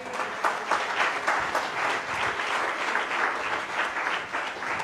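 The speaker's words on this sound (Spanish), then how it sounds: "Denle un aplauso al Señor" A church congregation claps together in steady, sustained applause, many hands at once filling the room evenly from start to finish without voices standing out.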